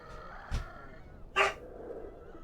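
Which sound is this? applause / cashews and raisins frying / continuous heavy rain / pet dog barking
pet dog barking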